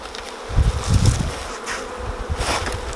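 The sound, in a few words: honey bees buzzing around hive frames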